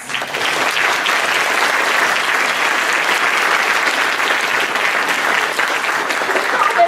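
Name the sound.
audience applause for exhibitors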